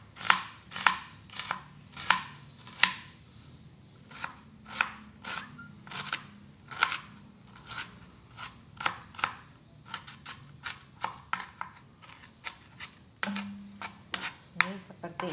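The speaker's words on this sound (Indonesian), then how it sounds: "Juga bawang bombay saya potong kecil-kecil" A knife chops onion into small pieces on a cutting board, with steady rhythmic close taps of roughly two per second that pause briefly and then resume.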